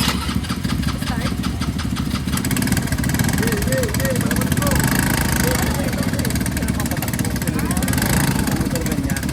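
A motorcycle engine starts and settles into a steady idle, a continuous mid-pitched running drone held close and loud for the whole span, with people talking over it.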